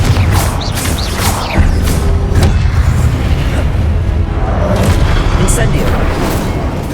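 Rapid, heavy booming blasts from the Confringo spell in Hogwarts Legacy, layered over continuous crackling game noise and rumble, with a voice speaking over it.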